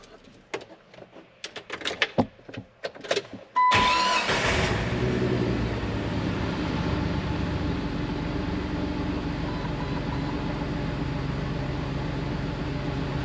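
A Jeep engine with new plugs and injectors but its old coil pack cranks a few times, catches and settles into a loud, steady, rough-running idle close to the microphone, with no voices.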